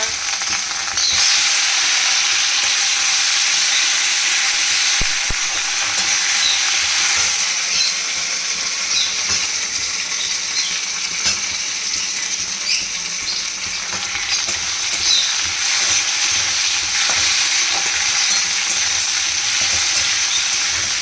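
Gobindobhog rice khichuri fries in a pan with a steady, close, loud sizzle and hiss, broken by stirring scrapes throughout, with no talking.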